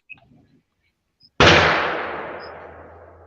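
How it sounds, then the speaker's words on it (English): A single sharp, loud gunshot goes off outdoors, a sudden broadband crack followed by a long decaying echo lasting nearly two seconds, after a short quiet stretch with faint background noise. "That sounded like a gunshot, dude."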